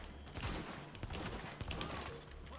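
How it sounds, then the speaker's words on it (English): Sniper rifle fire in the video game The Division, several sharp shots cracking over a dense, continuous gunfight with other gunfire and faint talk underneath. "Alright, using the sniper rifle."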